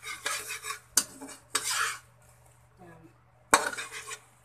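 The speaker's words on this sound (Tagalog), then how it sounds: "Kailangan mahalo natin siya maigit." A utensil scrapes and clinks against a bowl while salted egg sauce is stirred, several close bursts of mixing separated by short pauses and a few sharp taps on the rim.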